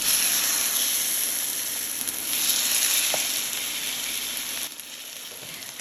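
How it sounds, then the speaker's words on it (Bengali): Capsicum and onion sizzling in hot oil over medium heat, a steady bright crackling sizzle that holds evenly and drops slightly toward the end, with no talking. "তেলটা একটু গরম হয়ে গেলে তারপর একে একে সব নামিয়ে দিলেই হবে"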